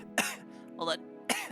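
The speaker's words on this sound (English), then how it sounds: "Sorry, everyone. I had to cough." A streamer coughs in short, sharp bursts, two or three close coughs with a brief spoken phrase among them, loud and near the microphone.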